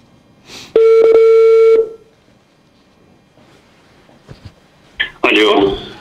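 A telephone line connects a caller into a Turkish TV talk broadcast: a long steady dial tone with a brief break, some faint blips, then a loud burst of line noise and garbled ringing.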